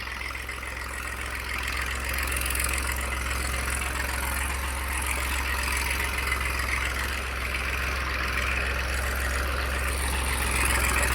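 New Holland 3032 TX tractor engine idling with a newly fitted silencer, a steady low throbbing rumble with a faint knocking texture, continuous and close throughout.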